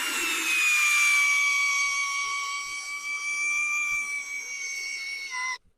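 A Vitals PAU 1870 BS SmartLine 70 Nm drill-driver drives a screw into a rotten stump: a single high, steady motor whine that sags slightly in pitch for about five seconds, then cuts off abruptly.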